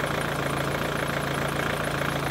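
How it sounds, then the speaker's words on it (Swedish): A close, steady drone from an Opel Astra engine idling roughly with a faulty SCV valve, a continuous uneven churn with no pauses and no talk. "Jag har startat tomgången."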